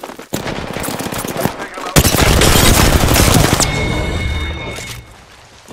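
R-301 assault rifle fire in the Apex Legends video game comes as loud, rapid automatic bursts. A short burst is followed by a longer sustained stream of shots, then a ringing tail as the firing stops.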